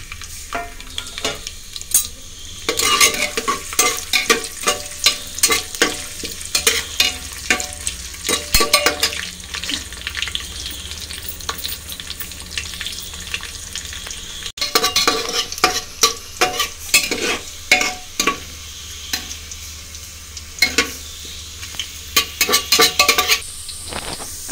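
Garlic cloves frying in hot oil with dry chilies and bay leaf for an aloo curry, a steady loud sizzle with repeated scraping stirs and occasional clinks of a spoon against the pan.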